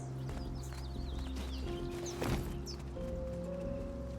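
Rust video game horse hoofbeats clip-clop steadily beneath a layer of synthetic music tones and ambient effects, with a brief louder burst midway.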